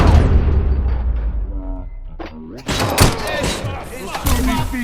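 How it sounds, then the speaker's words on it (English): Loud booming gunfire in the video game RoboCop: Rogue City, several heavy shots and thuds mixed with music and effects, with a voice speaking over part of it. "Am I hearing gunshots?"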